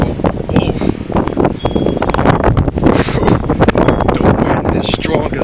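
Strong wind gusts buffet the microphone continuously during a February snowstorm in Chicago, a loud, rough roar that surges and dips throughout.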